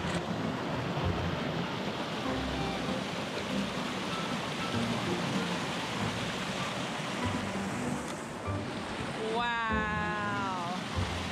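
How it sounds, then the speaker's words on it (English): Waterfall seen from a canoe on a paddling trip: a continuous broadband rush of falling water fills the scene, steady and fairly close, while voices talk over it and a high, wavering voice rises near the end. "Another secret waterfall."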